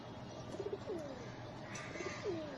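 A racer pigeon gives soft, low coos in two short bursts, close and fairly quiet, with no talking over it.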